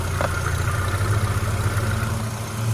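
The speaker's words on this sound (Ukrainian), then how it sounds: "Двигун працює чітко" A Skoda Octavia A5 with a 1.6 MPI petrol engine idles steadily, a smooth low hum with an even rumble throughout, heard up close with no talking.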